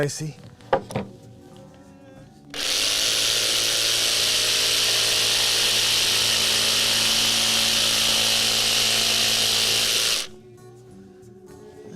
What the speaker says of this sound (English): We'll just sand it from there and make it nicey.